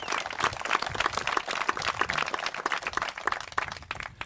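Applause at an outdoor field dedication ceremony, a dense patter of many hands clapping steadily for about four seconds at moderate loudness, with no voices on top.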